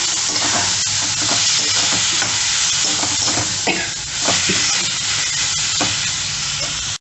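Mustard seeds, urad dal, chili and boiled black-eyed peas fry in hot oil for karamani sundal: a loud, continuous close sizzle with occasional stirring scrapes, cutting off abruptly at the end.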